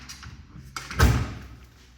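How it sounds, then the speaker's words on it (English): A door being opened in a large townhouse in Illora, Granada, with a click followed by a single dull thump, close by. "I'll try and open the door"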